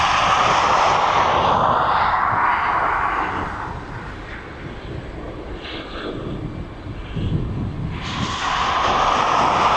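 Cessna 152 training plane from a flying school on approach to East Midlands Airport, a steady droning propeller engine, loud at first, easing off in the middle and swelling again at the end.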